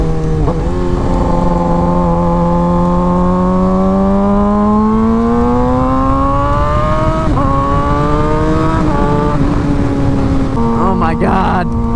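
A Suzuki GSX-R600 motorcycle with a new aftermarket exhaust revs loud and close, its engine note climbing steadily and then dropping and rising again in several pulls.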